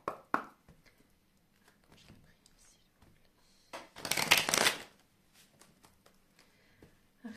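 Oracle cards shuffled for a tarot-style reading, with soft taps early on and then one loud, dense riffle lasting about a second, with quiet handling on either side and brief speech.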